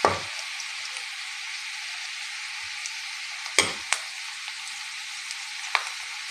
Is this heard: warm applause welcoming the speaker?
no